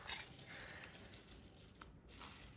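Crispy fried onions (birista) for a Karachi-style biryani being crunched and stirred, giving a steady close crackling and rustling texture with a few sharper crisp bursts.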